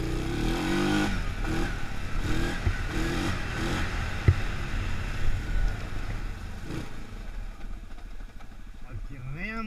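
A Yamaha Grizzly ATV engine idles and labours in two-wheel drive as it descends a steep slope, a steady close mechanical drone with a few pulsing surges and knocks, while someone talks over it.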